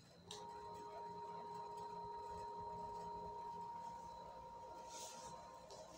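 A steady electric hum from an electric fan running on a 6000W pure sine wave power inverter, with sustained tones held evenly for several seconds, faint background noise and no speech.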